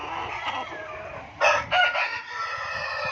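Hens clucking in a poultry farm shed near the egg nest boxes, a steady murmur of birds with a couple of louder, closer clucking bursts rising out of the flock.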